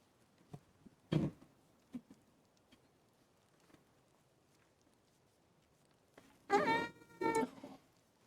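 Indoor cat meowing twice near the end, close and fairly loud, after a few soft taps and rustles in a quiet room with no talking.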